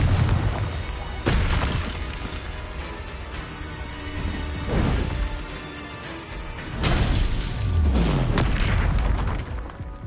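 Spell blasts from the Confringo fireball in the Hogwarts Legacy video game: loud booming, crashing bursts at irregular intervals, with a deep rumbling tail after each impact and a dense layer of game sound throughout.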